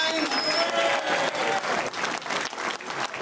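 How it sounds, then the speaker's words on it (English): A political rally crowd gives a round of applause for senators, dense clapping throughout at moderate distance, with a few voices and whistles cutting through. "Give a round of applause"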